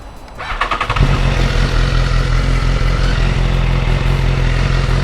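A motorcycle engine fires up after a brief crank, then settles into a loud, steady idle with a deep rumble and light mechanical clatter close by.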